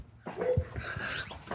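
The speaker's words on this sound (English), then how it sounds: "that deep bark I can hear there, Craig, that isn't Betsy." A deep dog bark heard at a distance, a few short low bursts mixed with faint whimpering, behind indoor background noise.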